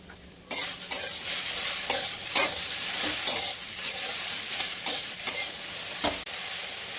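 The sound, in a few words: chopped okra being sautéed and stirred in a pan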